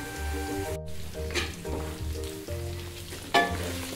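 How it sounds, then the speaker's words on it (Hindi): Mutton or beef sizzles and crackles with ginger and garlic in a hot pan while frying for korma, a steady frying hiss with occasional scrapes of stirring and a louder spatter near the end. "ये देखें गोश्त की अच्छे से अदरक की, लहसुन की और गोश्त की हमने भुनाई इतनी ज़्यादा कर ली है"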